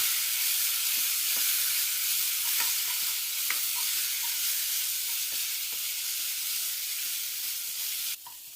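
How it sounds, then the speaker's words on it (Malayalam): Onion and tomato paste cooking in a pan for an egg roast, stirred steadily: a continuous broadband sizzle with soft scraping strokes and light utensil taps, close and even, ending with a brief louder burst. "മിനിമം 2 മിനിറ്റെങ്കിലും ഇളക്കി വേവിച്ചെടുക്കണം."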